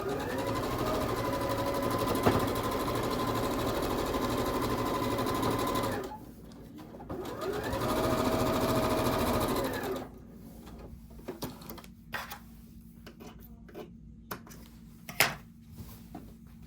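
A sewing machine stitches quilt block seams for a Starburst Galaxy quilt in two steady, loud runs of several seconds each, then stops, leaving quiet handling clicks and taps.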